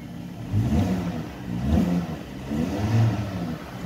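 A Volvo S40 petrol car with about 240,000 km revs its engine in three rising surges over a steady idle, a close, loud mid-pitched roar that swells and falls back each time.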